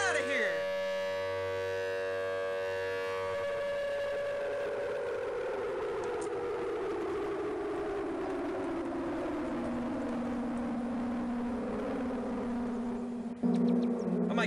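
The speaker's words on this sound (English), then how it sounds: "And the siren at the same time?" A Siren Head siren blaring in a video game, a loud sustained wailing tone that slowly slides downward in pitch for over ten seconds before cutting off abruptly.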